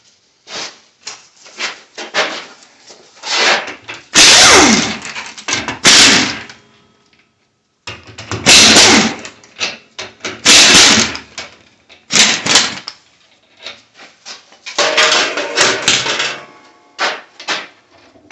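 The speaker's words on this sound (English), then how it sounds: "the next step is to go ahead and pull these bolts out" A ratchet works on the carrier cap bolts of a Ford differential during teardown, giving bursts of rapid clicking and rasping with metallic handling noises and short pauses between.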